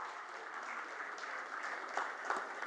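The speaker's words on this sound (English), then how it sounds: "can we please give a huge round of applause?" A crowd applauds as a Cloudflare country head is called onto the stage, giving sustained, even clapping from many hands that swells slightly toward the end, heard alone without speech.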